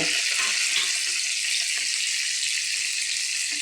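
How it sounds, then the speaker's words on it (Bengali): Paneer pieces fry in hot oil with a loud, steady sizzle and crackle that runs without a break, with no talking. "দেখো পনিরটা আমি ভাজতে দিয়েছি।"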